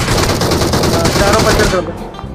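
Rapid video game gunfire aimed at a car's tyres, a dense continuous burst of shots that holds loud for about two seconds before tailing off.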